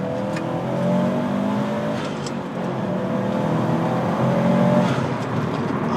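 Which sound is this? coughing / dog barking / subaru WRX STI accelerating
subaru WRX STI accelerating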